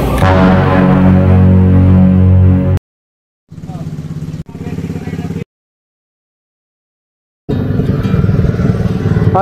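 A motorcycle engine from a delivery rider's bike runs loud and close with a rough, steady idle, breaking off into short bursts separated by gaps, then returning strongly at the end.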